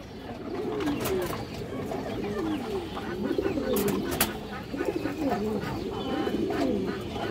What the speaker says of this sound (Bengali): এই দেখেন খুব সুন্দর একটা মাদি কবুতর আছে